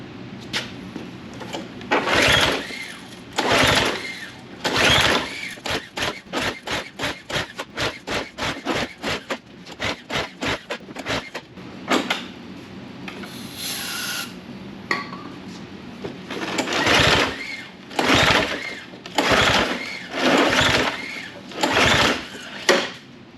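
A thirty-year-old snow blower that sat outside for years tries to run, its small engine firing in irregular sputtering bursts and rapid stuttering runs, cutting out and catching again close by.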